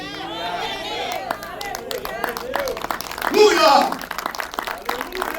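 A church congregation claps in a steady patter of sharp hand strikes while voices shout and chatter loudly over the clapping.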